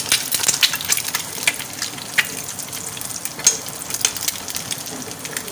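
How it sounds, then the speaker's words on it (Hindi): An egg fries in ghee in a pan with a steady close sizzle and crackle, broken by small pops and spatters, and no voice over it. "एक चम्मच लेंगे, इसके ऊपर घी डालेंगे ताकि ऊपर से भी थोड़ा थोड़ा फ्राई हो जाए।"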